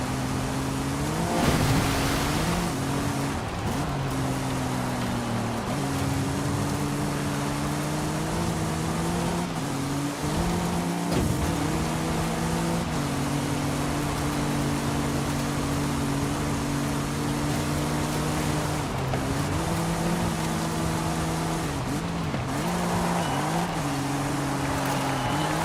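A Porsche engine drones steadily while racing in the Forza Horizon 5 video game, its pitch rising and dipping through repeated gear shifts and revs for the whole stretch, close and loud without pause.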